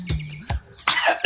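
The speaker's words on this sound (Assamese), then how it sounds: "কাহে ধৰি গৈছে" A person coughs a couple of times in short harsh bursts, followed by a throat-clearing rasp, close to the mic with no speech.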